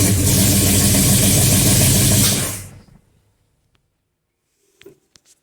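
A Ford Falcon XC with a 351 Cleveland V8 and MSD ignition runs loudly and roughly up close for a few seconds, then cuts out into silence, followed by a few faint clicks and knocks.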